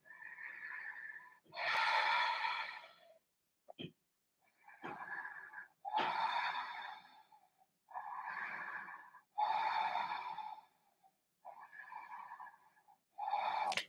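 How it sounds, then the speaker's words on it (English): Slow, deep breaths during a yoga hold, each inhale and exhale long and forceful with steady spacing, close and clear through the nose and mouth, repeating about eight times with short pauses between. "Really deep, strong, even breaths."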